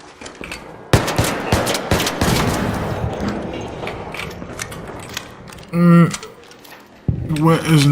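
Gunfire in Arc Raiders, a sharp shot followed by rapid bursts that fade into sporadic fire, with mechanical clicks and a voice talking over parts of it.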